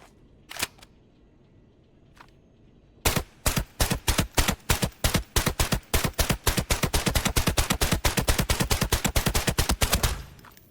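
Video game gun firing white ammo: after a couple of isolated shots, a long rapid run of evenly spaced loud sharp reports fires continuously for about seven seconds, then stops.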